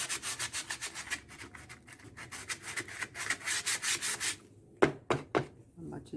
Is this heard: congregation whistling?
no